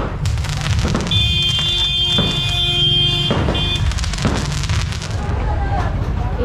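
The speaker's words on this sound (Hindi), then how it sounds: "बर्थडे पार्टी में पटाखे फोड़ रहे" Loud firecracker bangs and crackles in quick succession at a birthday party, with a shrill whistling tone and background chatter mixed in.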